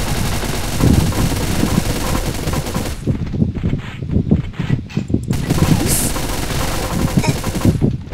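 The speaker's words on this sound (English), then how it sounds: "I still don't like this machine gun." Machine gun in a video game firing rapid bursts, loud and close, with a dense rattle of repeated shots and brief pauses between volleys, faint voices beneath.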